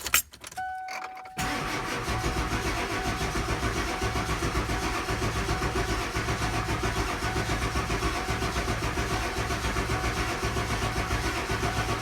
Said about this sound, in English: So what I'm going to do is now just crank it and see if I can get it started.